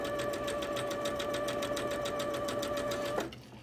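A sewing machine stitches a quilt block for an easy gem pattern, a loud, steady rapid whirring with a fast mechanical pulse that runs evenly, then stops abruptly near the end, leaving quiet room tone.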